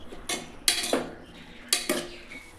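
Spoon clinking and scraping in a pan while chow chow kootu is mixed: a few distinct metallic knocks and scrapes in two clusters, close by, with quiet gaps between.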